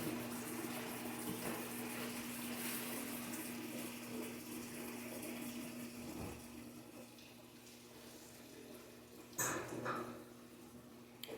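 A washing machine fills with water, giving a steady rushing, hissing flow with a low hum running throughout, and a few brief clunks near the end.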